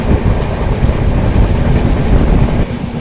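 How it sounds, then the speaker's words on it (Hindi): A Duronto Express train runs at about 100 km/h, its loud steady rumble and rolling rail noise continuous throughout, with wind buffeting near the microphone. "ट्रेन जो है अपनी यही कुछ रफ्तार मेंटेन करके चल रही है"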